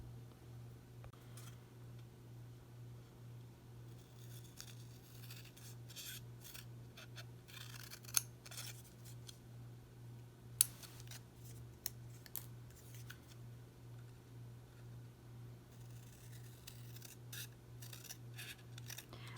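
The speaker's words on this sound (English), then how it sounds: "cut both of these sides off" Scissors cutting through card paper while making a handmade Father's Day card, with repeated crisp snips and rubbing paper sounds close up over a steady low electrical hum, growing busier toward the end.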